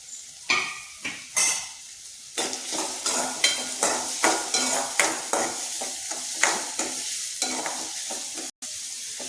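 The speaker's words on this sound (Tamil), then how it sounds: "3 பெரிய வெங்காயம் மீடியம் சைஸில் எடுத்து நறுக்கி வச்சுருக்கேன், அதை சேர்த்துக்கிறேன். நல்லா வதங்கட்டும்." Onions sizzle and spit in hot butter in a pan while a spoon stirs them in steady, repeated scrapes and clacks; no voices.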